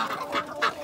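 Chickens, turkeys and ducks honk and squawk in a brief, busy burst, several nasal calls overlapping close by.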